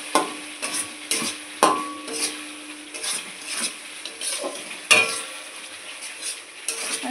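A spoon stirs a spice mixture frying in oil for egg curry, with repeated scraping strokes against the pan over a steady soft sizzle.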